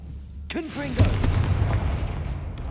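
A Confringo fire spell from Hogwarts Legacy goes off with a loud booming blast right after a voice shouts, then a rumbling tail that slowly fades.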